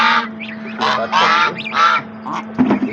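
Geese on a farm honk repeatedly at close range, a run of loud nasal calls in quick succession over a steady low background hum.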